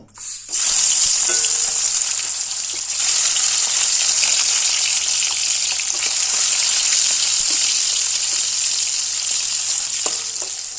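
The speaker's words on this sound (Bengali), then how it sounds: "এবার মাছটা ভেজে নেব" Sea fish, chela, frying in mustard oil in a wok for a thin curry gives a loud, steady, continuous sizzle with faint crackles, holding evenly for about ten seconds with no talking.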